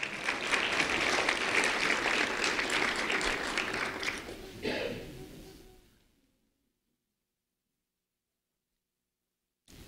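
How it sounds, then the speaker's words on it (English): Audience applause for Veronica Wan fills the opening six seconds as a dense, sustained wash of clapping that swells once near the end before cutting off into silence. "Round of applause for Veronica Wan."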